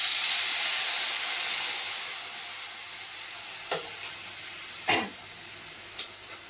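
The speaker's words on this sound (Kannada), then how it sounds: "ಈಗ ಎಣ್ಣೆ ಕಾದಿದೆ. ಇದು ಎಲ್ಲ ಹೇಳಿದ್ನಲ್ಲ ಒಗ್ಗರಣೆಗೆ, ಅದು ಹಾಕ್ತಾಯಿದ್ದೀನಿ." Spices for tempering sizzle in hot oil as a potato curry gets started, a loud steady hiss that slowly eases off, broken near the end by a few sharp crackles and pops.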